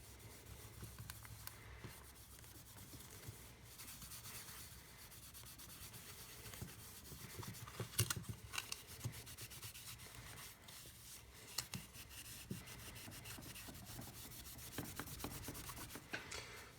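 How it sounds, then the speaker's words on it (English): Plastic of a Sega Saturn controller being sanded to strip its gloss: a continuous, close rasping scrub with steady rhythmic strokes and occasional sharper scratches, with no voices. "It's basically just sanding down the gloss."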